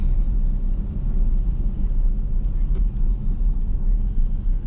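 A car driving around the block at night, a steady loud low engine and road rumble heard from inside the cabin, continuous with no other distinct sounds.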